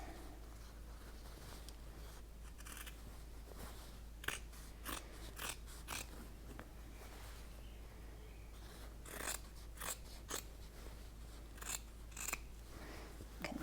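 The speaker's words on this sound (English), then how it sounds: "You can grade them or just hold your scissors at an angle here." Scissors snip repeatedly while trimming fabric seam allowances on a sewing project, with a series of sharp, close cuts spread across the stretch, some in quick bunches and others standing alone against a steady low hum.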